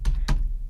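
Typing a URL on a computer keyboard: two quick, close keystroke clicks with a short pause between, over a low steady hum.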